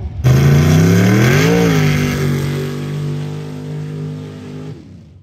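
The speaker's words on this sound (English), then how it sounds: "I brought my teal truck to run some super stock" Super stock mud race truck engine at a Jennings County, Indiana mud race, a loud close roar that revs up, dips, then holds a sustained drone before cutting off abruptly.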